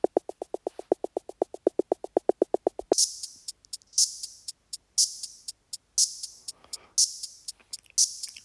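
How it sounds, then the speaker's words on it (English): Short crackly bursts of synthesized electrical fizzing repeat in a steady rhythm, bright and hissy, following a run of quick clicky pulses at the start. "or little kinds of electrical fizzling sounds"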